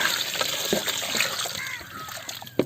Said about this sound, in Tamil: கரைச்சி வச்சிருக்கிற புளி தண்ணி எடுத்து அதில் சேர்த்துக்கலாம் கொஞ்சமாக